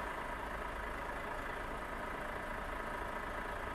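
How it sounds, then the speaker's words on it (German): A Volvo FH 2022 truck engine in Euro Truck Simulator 2 idles with a steady, dense low rumble, unchanging and alone throughout. "Nochmal den Motor anschmeißen hier."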